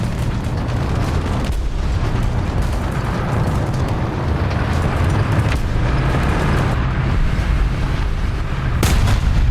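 Tank cannon fire in War Thunder, heard as heavy booming shots with long gaps between shells over a constant rumbling engine bed, loud and close, with a sharp blast near the end.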